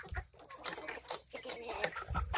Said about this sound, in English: It's time to let the chickens out.